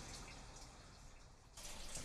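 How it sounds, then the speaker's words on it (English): Water in Fallout 76 rushes and splashes steadily, dips and thins for a moment, then swells back louder, a continuous watery hiss with no voices. "I love how the water just keeps cutting in and out."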